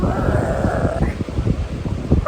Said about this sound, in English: I don't know if you'll be able to hear me very well because of the wind